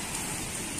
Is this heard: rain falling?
yes